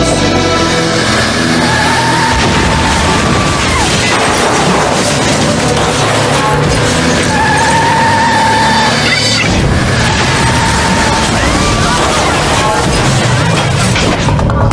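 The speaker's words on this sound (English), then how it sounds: "a 73-year-old woman in a pickup truck plows into the store, destroying everything in its path" A pickup truck driven by a 73-year-old woman plows into a store, with loud, continuous crashing, booming impacts and grinding debris filling the whole stretch, no quiet moments between.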